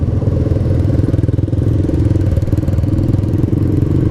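A Honda CB150 Exmotion motorcycle engine idling with a steady, close low rumble and light mechanical clatter, heard alone.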